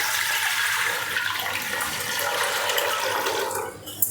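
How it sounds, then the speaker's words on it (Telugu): Water for making sago vadiyalu is poured steadily into a cooking pot, a continuous loud rushing splash that fades out at the end, with no talk over it. "మిగతా వాటర్ ఇక్కడ నేను కొలిచి పెట్టుకున్నాను ఇవి యాడ్ చేసేసుకుంటున్నా"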